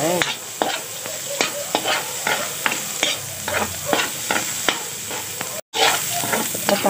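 Garlic, onion and ginger frying in a pan, a loud, continuous close sizzle under repeated scraping and tapping of a stirring utensil, with a brief dropout near the end before the sizzle resumes.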